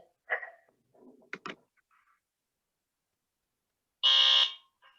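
A short electronic quiz buzzer blares for about half a second after a few quiet scattered sounds, loud and harsh against near silence.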